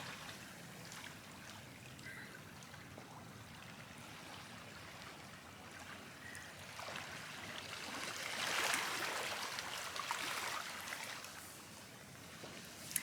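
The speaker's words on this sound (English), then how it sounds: "let you hear the ASMR of the waves lapping on the shore" Gentle water lapping against a beach shore on Dhiffushi island in the Maldives, a steady soft wash with a slightly fuller surge midway, no voices.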